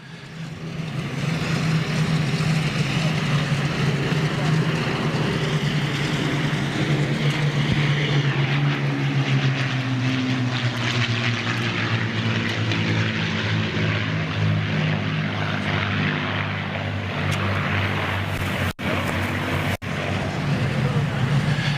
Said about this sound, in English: Six V12 Rolls-Royce Merlin engines.